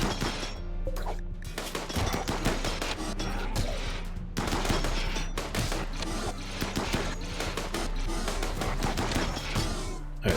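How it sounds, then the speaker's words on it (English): Rapid bursts of gunfire from a centipede mech in RimWorld rattle almost continuously, loud and close, with brief gaps between dense volleys. "there's a centipede shooting at us"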